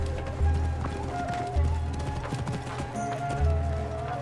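Horse galloping in the video game Assassin's Creed Origins, a rhythmic run of hoof clip-clops with low thuds recurring about every second, with game sound and music layered beneath.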